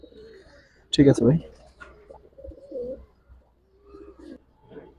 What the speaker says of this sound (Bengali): একদম ইয়াং কবুতর